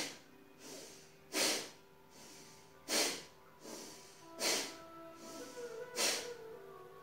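Deep breathing exercise from a kids' yoga session, with four strong rhythmic exhalations at regular intervals and softer inhalations between, close and clear, with no speech.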